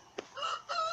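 A Rhode Island Red rooster crows, its call in two drawn-out, harmonic bursts after a brief sharp cluck, fairly close and clear.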